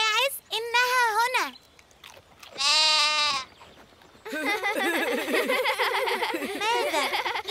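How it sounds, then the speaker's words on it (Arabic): Goats bleat in loud, close, quavering cries: a few separate calls first, then a longer continuous stretch of overlapping bleating. "الماعز إنها هنا."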